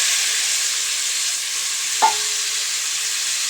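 Vegetables meet fried tomatoes in a hot pan, giving a steady, close, bright sizzle with one brief knock or clink partway through and no voices.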